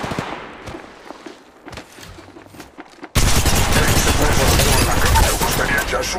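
Quiet shuffling and faint voices give way at the midpoint to a sudden, loud, sustained burst of rapid gunfire in Apex Legends Mobile that continues to the end.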